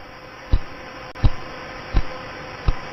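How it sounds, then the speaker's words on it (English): Radio signal from a pulsar turned into sound: four sharp thumping pulses spaced about once per second over a faint steady hiss and hum, each pulse brief and close. "This is the beam of the pulsar passing by the Earth every second."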